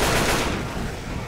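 Guns firing at zombies in Left 4 Dead 2, a loud, close burst of overlapping shots in one short dense blast that fades out quickly.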